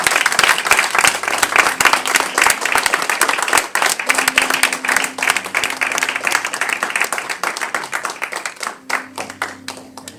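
A church congregation applauds and cheers the Lord, sustained loud clapping from a crowd with a faint voice underneath, thinning slightly toward the end.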